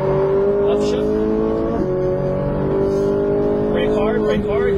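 Ferrari 458 Italia accelerating on a racetrack, its engine holding a loud, close, rising tone with a brief dip at a gear change, under an instructor's coaching voice.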